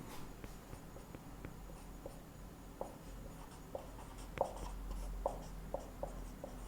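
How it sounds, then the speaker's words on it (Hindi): Chalk or marker writing on a board in a classroom-style lesson, a series of short taps and strokes at an irregular pace, fairly close and moderately loud against a quiet room, with no talking. "इधर लिख देता हूं"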